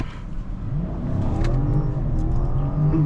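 A 2021 BMW 750i with a 650 hp engine accelerates on a highway, its steady, loud engine drone rising slightly in pitch over road and wind noise inside the cabin.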